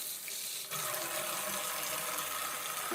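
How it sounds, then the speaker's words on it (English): Lukewarm water runs steadily from a tap into a basin being filled for hand-washing wool, a constant broadband gush that starts abruptly after a brief quieter moment and continues alone without speech. "lukewarm water, we're going to begin by filling our basin."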